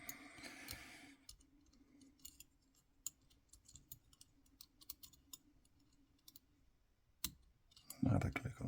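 Light clicks from a Lishi 2-in-1 M1/MS2 lock pick setting pin 2, a string of small, close ticks scattered through the clip with a steady low hum beneath and a louder rustle near the end.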